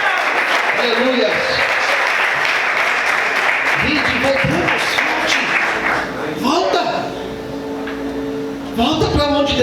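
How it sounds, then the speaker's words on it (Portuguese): A church congregation applauds in a steady, dense wash of clapping for several seconds, which then thins out under a preacher's voice and a few scattered shouts. "Quantos podem aplaudir e exaltar o Senhor por isso?"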